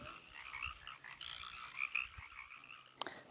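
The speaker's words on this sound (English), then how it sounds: "This is a vernal pool that is home to thousands and thousands of frogs" Frogs croak from a rain-filled vernal pool, a faint continuous chorus of overlapping calls at a distance, with a sharp click near the end.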